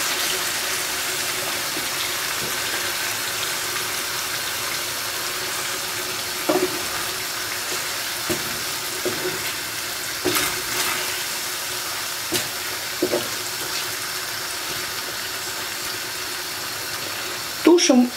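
Beef liver stroganoff sauce comes back to a boil in a pan, giving a steady soft hiss with scattered small pops and a few light knocks near the end.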